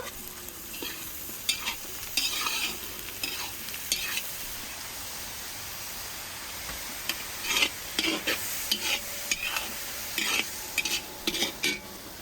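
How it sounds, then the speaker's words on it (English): Mushrooms and vegetables sizzle in a pan over a fire-cooked Azerbaijani setup, a constant hiss broken by repeated bursts of scraping and stirring, close and clear with no talk. "I toss in the mushrooms and sprinkle some salt."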